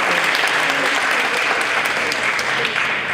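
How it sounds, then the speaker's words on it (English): Steady audience applause for the UN Foundation event staff at a youth summit in Los Angeles City Hall, a dense, continuous wash of many hands clapping throughout. "let's give them a round of applause as well"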